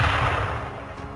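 Grenade explosion from the video game Halo: Reach, heard as the surround layer: a loud, dense blast with heavy low-end rumble that tails off gradually over about a second, with no speech.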